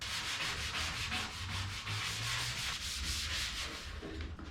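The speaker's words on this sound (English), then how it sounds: "scuffing on it with this will help dull it out just a hair" Abrasive scuffing across the patina paint of a wagon tailgate, a steady loud rasping rub with rhythmic back-and-forth strokes lasting throughout, no voices.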